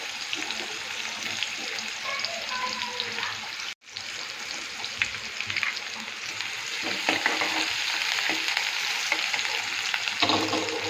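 Curry leaves and onion crackle in hot oil with a dense, steady sizzle and stirring scrapes, broken by a brief pause before the frying resumes louder.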